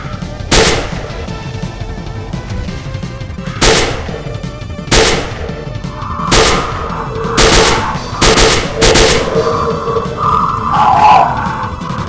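Gunshots from a shooter video game set in the Zone, fired in controlled single shots and short bursts, loud and sharp with gaps between, and a softer mechanical clatter near the end.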